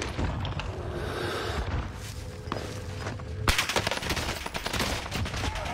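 Gunfire in an online shooter comes from behind the player, with sustained rattling bursts that turn sharper and louder partway through over steady background game noise.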